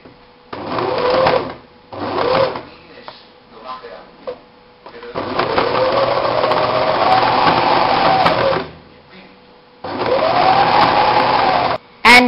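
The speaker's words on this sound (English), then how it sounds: "Now go ahead and sew that shoulder seam." A sewing machine stitching a T-shirt shoulder seam runs in a few short starts, then in two longer steady runs, a close whirring hum with pauses between them and a brief voice at the end.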